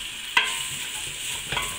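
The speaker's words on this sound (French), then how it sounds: "je vais la faire prendre le gras en tournant régulièrement pendant 30" A spoon scrapes and stirs flour into fat in a cast-iron pot over a steady sizzle of frying fat, with two sharper knocks against the pan.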